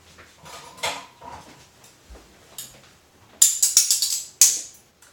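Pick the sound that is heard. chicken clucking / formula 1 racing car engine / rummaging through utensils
rummaging through utensils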